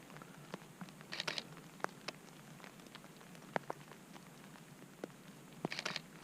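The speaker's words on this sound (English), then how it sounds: "it is raining so much harder than I anticipated" Rain falls outdoors during a nature photo shoot, a soft, steady patter broken by scattered sharper drops, fairly faint and with no voices.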